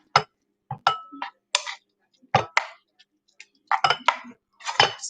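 Eggs are stirred in a breakfast bowl, giving sharp, irregular clinks and taps of a utensil against the bowl, close and distinct with quiet gaps between strikes.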